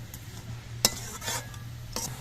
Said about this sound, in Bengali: এবার সব কিছু দিয়ে নেড়ে চেড়ে মিশিয়ে দিতে হবে